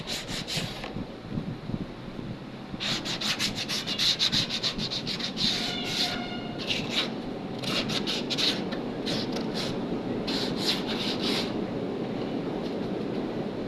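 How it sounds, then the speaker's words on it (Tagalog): Close-up sandpaper rubbing back and forth over an edge in repeated bursts, a scratchy rasping rhythm with brief pauses between strokes. "Lihain natin ng tanggalin lang natin yung mga matatalim."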